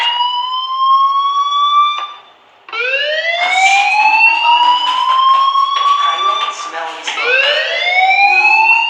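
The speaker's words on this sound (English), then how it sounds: "do you hear that fire alarm?" A fire alarm in the video game Life is Strange wails loudly in repeated rising sweeping tones, a brief gap between cycles, continuous and close.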